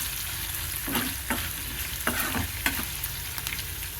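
Tempering for mango pulihora frying in a pan, a steady sizzle with intermittent scraping stirs, close and moderately loud.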